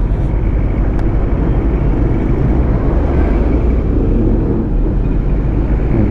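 Dense traffic rumbles continuously along the Berastagi route, heavy trucks and cars churning out a loud, broadband roar with no pauses.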